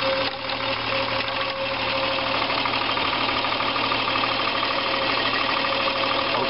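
A 1977 Triumph 2000TC car engine idling just after a cold start, a steady close rumbling idle with a continuous low hum and a slightly rough, knocking texture throughout.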